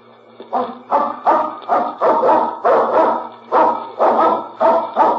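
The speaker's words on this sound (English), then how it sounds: "That must be the dog you told us about." A dog barks repeatedly in a steady rhythm, about ten loud, close barks in quick succession with a low hum underneath.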